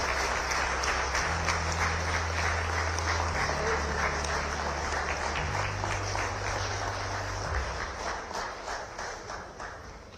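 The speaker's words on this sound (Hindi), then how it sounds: "जोरदार तालियां, खड़े होकर एवरीवन।" Sustained applause from an audience rising to a standing ovation at a public event honouring a chief minister, dense clapping continuous throughout and fading slightly at the end, with low tonal hum underneath.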